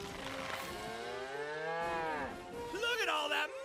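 A cow moos in a tax software advert, a long, loud, drawn-out low bellow with a rising call at the end over a steady background.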